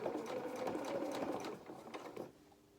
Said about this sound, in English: Let's carry on stitching, and then let's stop for each of our pins as we get to them.